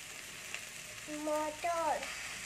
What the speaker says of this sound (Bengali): এখানে ফুলকপি আলুটা একটু নেড়ে নিচ্ছি।